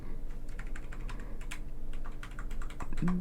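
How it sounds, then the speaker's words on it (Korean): Rapid typing on a computer keyboard, a quick irregular run of close, crisp key clicks over a faint steady hum. "키보드에서 탭키를 눌러 주세요"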